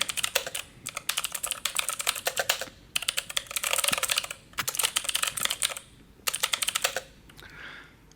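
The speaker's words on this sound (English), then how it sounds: "this was the sound of an ergonomic mechanical keyboard." Rapid typing on an ergonomic mechanical keyboard, clicky keystrokes clattering in bursts of a second or two separated by short pauses, close and clear, with no talking.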